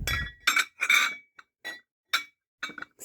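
Kosta Boda glassware clinks and clanks as it is moved around, a string of sharp, bright glass-on-glass knocks in irregular bursts with short pauses between, close by and fairly loud.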